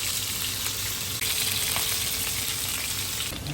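Frozen food dropped into hot oil, frying with a loud, dense, continuous crackling sizzle and spatter from the ice on it, close-up and steady throughout, with no speech.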